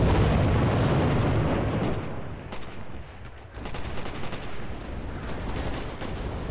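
Dense battlefield gunfire and artillery in the video game Red Orchestra 2 on an open map, a loud continuous rumble of shots and blasts that thins briefly midway before building again.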